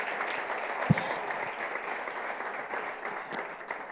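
Audience applause at a Spanish public-sector presentation on the Plan Inveat in the national health service, a steady even patter of many hands clapping throughout, moderately loud with one sharp thump near the start.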